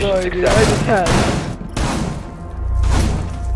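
Rapid gunfire in a Rainbow Six tactical shooter match, loud close bursts and thuds in several clusters, mixed with players' voices and laughter.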